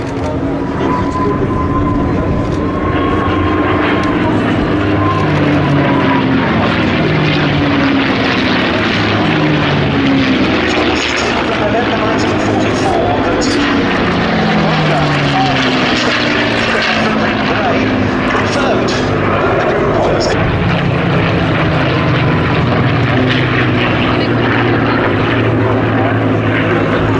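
P-51 Mustang propeller fighters flying at the Duxford Battle of Britain airshow, a loud continuous engine drone whose pitch sweeps up and down as the aircraft pass, with a commentator's voice running underneath throughout.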